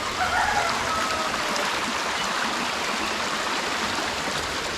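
A clear stream near Ratnagiri flows in a steady, close rushing wash of water, loud and unbroken, with no voices over it.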